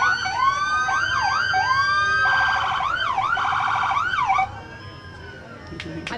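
Police and sheriff vehicle sirens wail at a Fourth of July parade, loud overlapping rising-and-falling tones that cut off abruptly near the end, leaving quieter street ambience.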